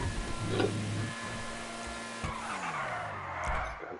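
A car skids with a long, sliding tire scrub under a heavy handbrake in a stunt racing video game, the engine drone steady and close across four seconds before easing into a rougher slide near the end.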